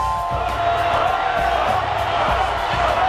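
A crowd at a high school girls' Class A basketball championship keeps up steady cheering and whooping, a dense roar of voices filling the gym for a few seconds.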